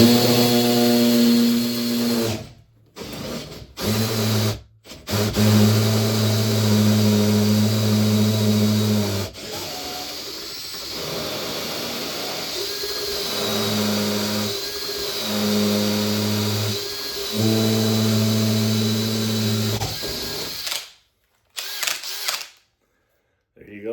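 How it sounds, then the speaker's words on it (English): A power drill turns a 2 1/8 inch hole saw into a door for a handle install, whirring in several sustained bursts with short stops between, close and loud, while a voice talks briefly near the end. "We're going to drill this hole here first. 2 1/8 hole saw."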